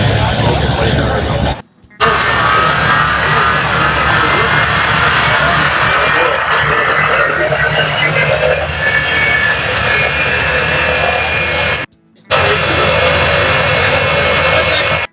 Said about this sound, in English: I'm going to show you the jet truck.